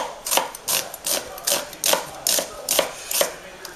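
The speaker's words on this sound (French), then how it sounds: "Alors on coupe notre oignon" An onion is chopped into small cubes, with nine evenly spaced crisp knife strokes against a cutting board, close and clear with no talking.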